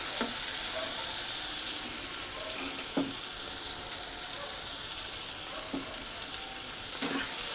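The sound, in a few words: stirring carrots with sugar in a frying pan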